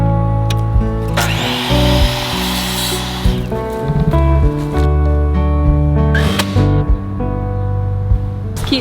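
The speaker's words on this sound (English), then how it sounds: "So I have a little piece of trim that's gonna cover my raw edge of plywood. So I'm gonna cut those" Plywood trim pieces are cut with a power saw: a loud, close whine in several bursts, one long sustained cut early on, then shorter runs with brief pauses between them. There is no speech.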